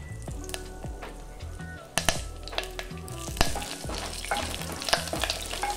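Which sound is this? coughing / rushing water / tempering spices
tempering spices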